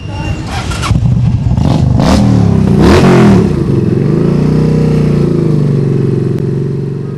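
Motorcycles rev loudly and close at a motorcycle rock-and-roll biker festival in Lysychansk, engines roaring and rising in bursts over a steady rumble amid crowd noise.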